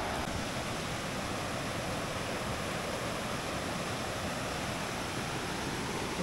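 A river in the countryside near Manabao, muddy after rain, flows with a steady broadband rush of water, constant and unbroken with no voices.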